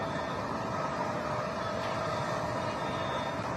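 Steady broadband roar of a rocket engine at full throttle during supersonic ascent past max Q, a continuous even rumble with no breaks and no voices.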